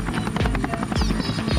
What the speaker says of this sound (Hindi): हेलीकॉप्टर का पीछे का डोर खुला। सब हेलीकॉप्टर में चले गए।